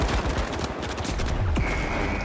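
Gunfire in The Finals, an online shooter game, rattles in dense rapid bursts over a busy mix of in-game sounds, with a short ringing tone rising near the end.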